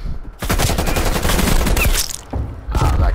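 Rapid automatic gunfire in Black Ops Cold War on the Standoff map, dense close bursts in two volleys separated by a brief pause.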